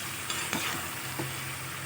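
Vegetables sizzling in a pan while being stirred, with salt just added, in an Assamese vegetarian kitchen: a steady hiss of frying with a few quick scraping stirs, close and alone.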